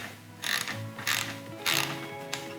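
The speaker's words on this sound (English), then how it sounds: "we're going to do that by unscrewing the drain plug" A ratchet wrench clicks in three short bursts, close and fairly quiet, as a drain plug on a Yamaha F150 outboard is loosened.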